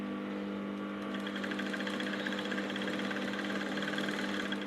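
A sewing machine running while stitching short pants, giving a steady, continuous mechanical whir with a fine rapid pulse. The sound is fairly high-pitched and holds at an even level throughout, with no one speaking.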